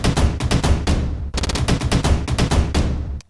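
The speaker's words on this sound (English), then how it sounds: "I just went into the studio and chopped that drum loop up a lot." A dense, punchy drum loop, chopped up and unmastered, hammers away in rapid chopped bursts, loud and crowded, with a brief dropout midway before the pounding resumes.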